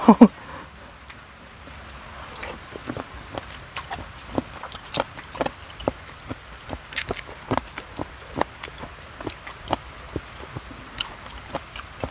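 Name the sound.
rain falling by the Mekong river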